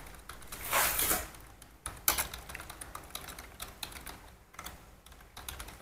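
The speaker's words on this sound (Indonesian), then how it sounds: "Nah, ini kebetulan saya ngetik ya." Keys clatter on a computer keyboard while someone types into a form in office software, a close, steady patter of clicks with a denser burst early on and scattered keystrokes after.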